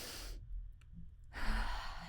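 A deep breath in a quiet room: an audible inhale and a pause, then a longer, close exhale.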